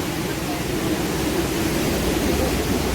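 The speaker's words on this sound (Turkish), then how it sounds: "Şelale burası." Palovit waterfall in Rize, Turkey, heard as a steady, dense rush of falling water, broadband and unbroken, at moderate distance.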